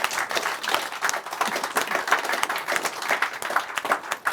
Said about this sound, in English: How about a quick round of applause for all of our.